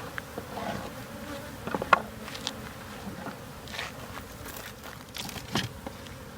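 Bees swarm in a steady, close buzzing drone during a hive removal and relocation, with a few faint knocks and bumps over the continuous hum.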